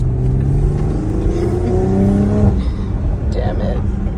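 BMW X3 M40i fitted with a catless downpipe revs loudly and nearby, engine pitch climbing then dropping in a throaty roar, with people talking over it.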